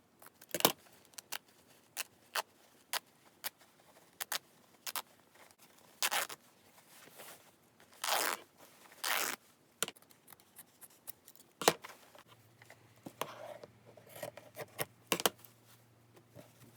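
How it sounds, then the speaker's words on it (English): Scissors snip through a strip of thick cloth scrap for a junk-journal craft, giving a run of sharp, evenly spaced cuts close by, with a few longer rasping strokes midway and quieter handling rustle near the end. "I am going to take this and just cut out a strip of it"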